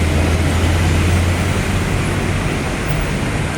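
Steady loud road traffic under a bridge on a busy main road, a continuous broadband roar with a low engine hum running throughout, no talk.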